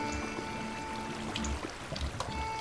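Water flows in the Minecraft video game, a soft, steady trickling pour heard faintly and close for a few seconds with no one talking.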